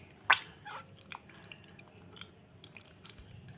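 Tomatoes squeezed by hand into tamarind water for rasam make faint, wet squelches and drips, with a sharper splash near the start.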